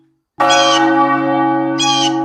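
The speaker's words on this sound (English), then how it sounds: "The bell calls us together in covenant, to share, to reflect, to hear with open hearts." A single church bell rings once loudly and alone to call people to worship, its strike followed by a long, steady ringing hum that fades slowly.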